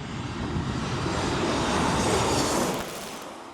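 A low-flying airplane roars past at Maho Beach on its approach to the St Maarten runway, a loud, broad, sustained engine rumble that swells and then fades near the end, with no talking.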